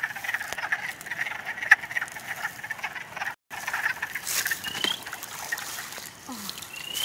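Shrill, high-pitched spring peeper frog peeps repeat through a steady chorus of calling amphibians, with faint trickling water and rustling close by.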